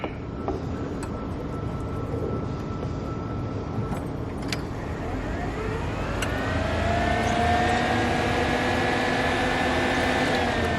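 A car engine cold-starts after a key-turn click: a starter whirs, then the engine catches and settles into a steady, rising idle up close, with no talk.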